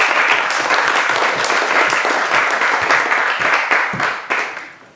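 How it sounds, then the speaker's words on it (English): Steady applause from a crowd, dense clapping that holds evenly before tapering off at the end. "I'd like to give her a round of applause."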